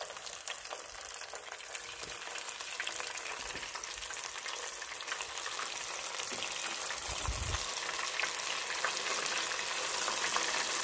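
Battered tofu frying in hot oil, a steady sizzling crackle that holds even and fairly quiet throughout, with no voices over it.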